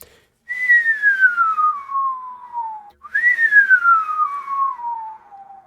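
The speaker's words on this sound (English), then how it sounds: "when you confine the whistle to the tube, you're quantizing the whistle." Two descending whistles, each confined inside a tube, slide downward in pitch with a slightly choppy, stepped texture rather than a smooth glide, loud and close with a brief pause between them.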